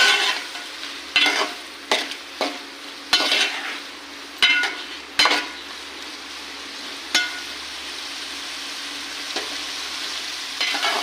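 Soft tomatoes and spices are stirred in a sizzling pan for paneer butter masala, with repeated scraping strokes and utensil clinks over a continuous frying hiss, close and fairly loud.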